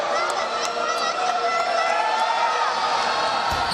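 Home basketball crowd at a Nicholls State whiteout game in Thibodaux against Oral Roberts, a loud sustained roar of cheering with a few sharp shouts and whoops rising above it.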